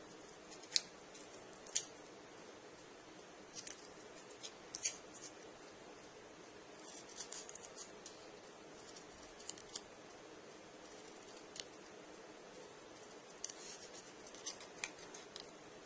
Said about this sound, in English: So now the final cuts we can do with the scissors.